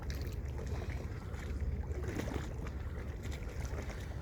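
Tugboats guide the large ship Prince of Wales with a steady, continuous rumble of powerful engines and churning water, mixed with wind noise on the microphone.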